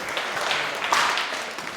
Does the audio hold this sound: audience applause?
yes